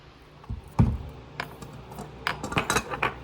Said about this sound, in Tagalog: hiwain ko na po ang aking rekado